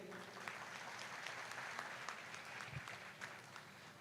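Audience applause at a talk on the future of freelance work in Pakistan, a steady wash of clapping from a crowd lasting throughout, moderately loud and continuous without speech.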